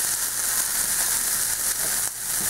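Onions and kale frying in a pan for a low-carb frittata, a loud, dense, steady sizzle up close, with a stir or two breaking through near the end, no voices.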